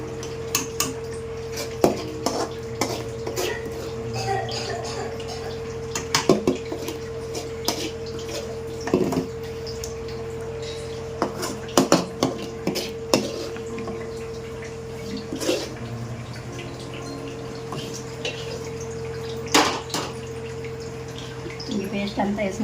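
Tomato and onion paste being stirred in a pot while cooking a chicken dish, with scattered scrapes and clinks of a spoon against metal over a steady background hum, and a voice talking now and then.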